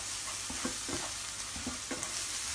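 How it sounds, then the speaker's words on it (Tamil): Mashed carrot being stirred for halwa in a pan, with soft scraping strokes repeating every half second or so over a steady low cooking hiss, close and moderately quiet. "இப்போ வந்து நம்ம கேரட்டை போட்டு மிக்ஸ் பண்ணிவிட்டு"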